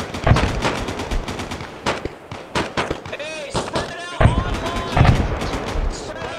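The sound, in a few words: gunfire in the video game Arma Reforger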